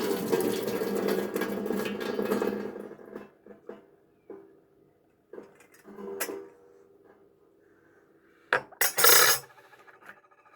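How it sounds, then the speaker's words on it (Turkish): Hot St. John's wort tea being poured off as the first rinse, a steady splashing pour for a few seconds, then quieter clinks and knocks of a teapot and cups with a short bright rattle near the end. "İlk suyunu döküyorum."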